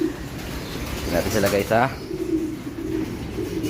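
Pigeons cooing at feeding time in a loft, with a few soft rhythmic coos in the middle, under and between a man's speech and a steady background hum.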